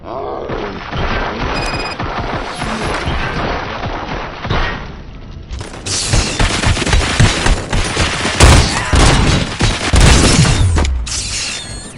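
Loud, dense gunfire rattles through a RoboCop: Rogue City firefight, sustained automatic bursts with heavy booms building in intensity after a brief lull, under occasional voices.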